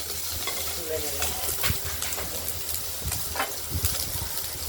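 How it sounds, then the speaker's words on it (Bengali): Katla fish frying in oil in a wok, a steady close sizzle with intermittent scraping clicks of a spatula over a low hum, no speech. "আমরা কড়াইয়ের ঢাকনাটি খুলে দেখে নিচ্ছি, মাছগুলো প্রায় ভাজা হয়ে গেছে।"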